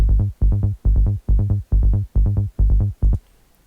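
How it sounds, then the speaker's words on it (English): A rolling sub bass played in sixteenth notes for trance, a run of short deep pulsing bass notes in a tight steady rhythm, loud and alone, ending abruptly. "So this is the 16th sub bass here."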